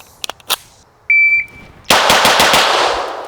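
A TTI Combat pistol fires a rapid string of close, loud shots that ring out on an outdoor range, after a steady beep from a shot timer and a few faint clicks.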